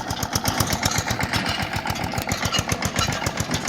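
A tractor engine chugs steadily as it drives through a village field at harvest, its rapid, even thumping close and moderately loud, with no voices over it.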